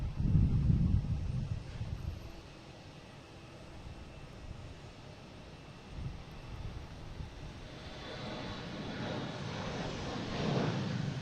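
An American Airlines Embraer E175 jet on the flight to Buffalo at Boston Logan gives a fairly faint engine rumble that fades, dips and then swells again toward the end, with some wind noise and no talking.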